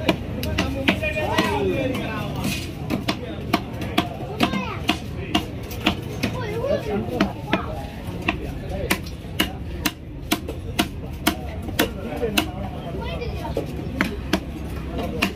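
A large mattivan fish is hacked apart with a cleaver at a Kasimedu fish-cutting stall, sharp heavy chops landing in a quick irregular rhythm over background chatter and voices.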